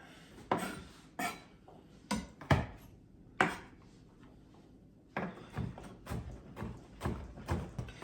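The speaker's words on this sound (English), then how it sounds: "let's mince the garlic" A knife chopping four garlic cloves on a board, a run of sharp irregular taps with brief pauses, then quicker softer strokes toward the end, close and fairly quiet with no talking.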